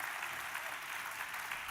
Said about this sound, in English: Yuval Noah Harari, let's give another big round of applause